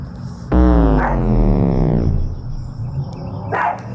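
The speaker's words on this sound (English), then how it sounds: "oh my gosh, I need to control my dog." A pet dog barks loudly and close by in a home, one long drawn-out bark-howl followed by a shorter yip near the end, with no talking.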